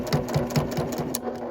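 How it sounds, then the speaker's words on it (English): Sewing machine stitching around the edge of a tote bag made from a men's shirt, a steady mechanical whir with rhythmic needle clatter, close and continuous with no voices. "And we're just going to sew like that all the way around the bag."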